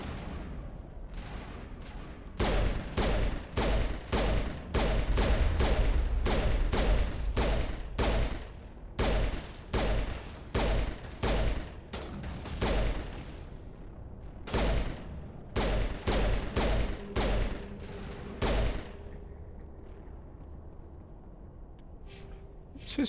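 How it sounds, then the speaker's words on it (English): Rapid volleys of gunfire from a firefight in the video game Mass Effect Legendary Edition, dense repeated bursts carrying on for most of the stretch before thinning to quieter ambient game sound near the end. "What are they shooting at?"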